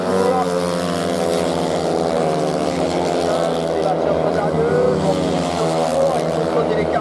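Grasstrack racing machines accelerate hard on the opposite straight toward the last lap, a dense, loud, continuous engine roar with layered rising tones, while a French commentator talks over it.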